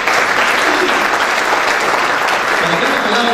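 Loud, continuous audience applause at an awards ceremony in Peru as someone is called up to the stage, a dense, even wash of clapping throughout.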